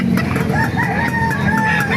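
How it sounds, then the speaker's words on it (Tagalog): Chickens cluck and a rooster crows repeatedly amid a busy, steady background hum at a pet market in Baliuag, with several birds calling close by. "Yan ang mga manok oh."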